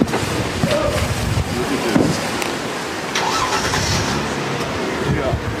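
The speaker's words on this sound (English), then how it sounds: "I leave the engine running so we can take off" A car's engine idles while left running on a street in Venice, a steady mid-range hum under nearby talking voices, with brief surges and street noise around it.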